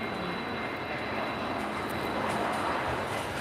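An Airbus A321 at Lisbon Airport gives a steady, broad jet engine roar that holds at an even level throughout, heard from a distance without talk.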